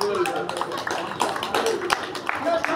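An audience at a Sri Krishna Leela stage show for children breaks into scattered, uneven clapping, several hands tapping at once, moderately close beneath ongoing talk and room noise.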